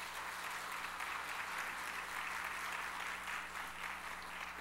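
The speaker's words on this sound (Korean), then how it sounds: "박수 한번 하십시다" A church congregation at a Sunday evening service gives sustained applause after a guest lecture, a dense, even roar of many hands clapping with no break.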